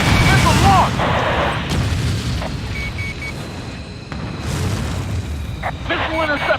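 Missile launches and deep booming explosions in the aerial combat game Ace Combat Assault Horizon, several heavy blasts with jet roar and radio chatter over the top.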